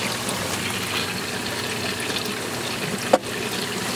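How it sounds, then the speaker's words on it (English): An auto top-off pump feeds water into a home reef aquarium, giving a steady close trickle and gurgle of flowing water throughout, with one brief sharp knock near the end. "It's still pumping away, so my skimmer is starting to take more water in now."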